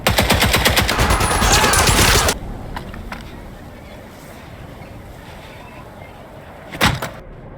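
Bursts of automatic gunfire from the Indiana Jones and the Great Circle video game, a dense loud rattle for about two seconds, then quieter ambience and a single sharp shot near the end.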